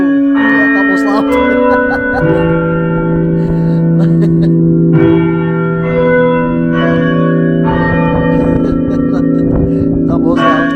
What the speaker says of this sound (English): We'll keep rolling and wait for that chime to go off.